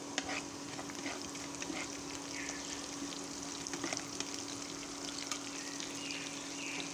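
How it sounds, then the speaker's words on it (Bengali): Sliced onions with cardamom, cinnamon, cloves and green chillies frying lightly in a pan, giving a steady close sizzle with soft stirring scrapes throughout and no voices. "পেঁয়াজটা বেশি ভাজবো না হালকা ভাজা হবে"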